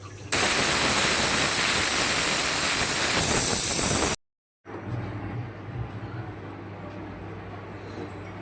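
A pressure cooker cooking Sindhi-style sai bhaji lets out a loud, steady steam hiss with a high whistling edge for about four seconds. Then it cuts off abruptly, leaving quieter kitchen room tone.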